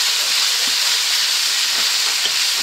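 Mince browns in a frying pan while being stirred, a loud close continuous sizzle with faint scraping of the stirring underneath and no voices.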